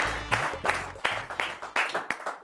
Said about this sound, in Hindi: तो आइए हम जोरदार तालियों से उनका स्वागत करें